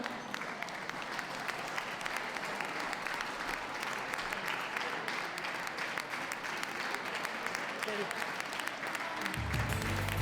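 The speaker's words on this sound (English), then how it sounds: "Please give a round of applause to those leaving the ring" Steady round of applause from the audience at the WELKS 2014 dog show ring, fairly faint and distant, continuous for about nine seconds before a voice cuts in at the end.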